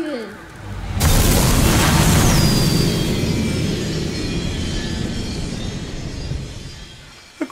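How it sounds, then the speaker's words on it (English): A magical burst for a child vanishing in multicolored light opens with a sudden loud whoosh, then a shimmering, rumbling wash that slowly fades across several seconds. "Child vanishes in a burst of multicolored light."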